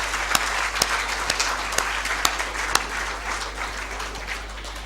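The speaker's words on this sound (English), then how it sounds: "give yourselves one more round of applause for amazing, amazing work that you're doing" Applause from the audience at a psychiatric rehabilitation conference in Karachi, a steady wash of clapping with several sharp, close claps standing out, over a low electrical hum, no speech.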